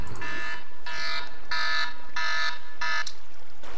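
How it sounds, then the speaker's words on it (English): A coffee-sip reminder alarm sounds as five loud, evenly spaced electronic buzzing beeps, each about half a second long, with no talk over them. "My alarm telling me time to take a sip of coffee."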